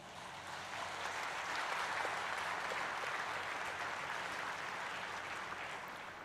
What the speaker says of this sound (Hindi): आप सभी के लिए एक बार जोरदार तालियां हो जाएं